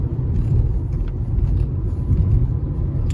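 A Ford Ka car on a road test, its engine and tyre rumble steady and close throughout, a continuous low drone from the cabin with no talking.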